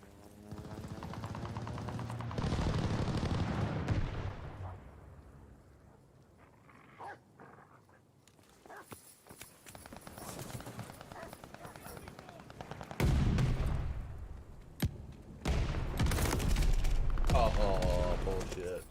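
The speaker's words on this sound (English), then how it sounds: "Friendly sending an airstrike." Airstrike explosions and bursts of gunfire in a multiplayer video game, heard as loud broadband blasts at the start, then scattered shots and renewed heavy bursts near the end, with a voice talking over parts of it.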